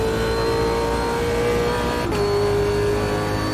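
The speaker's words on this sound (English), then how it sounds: "You almost just feel like you are there driving a V8 supercar around Bathurst." V8 supercar engine lapping Bathurst in the racing game Automobilista 2, a steady loud high-revving drone with a brief gear-change dip partway, no talk.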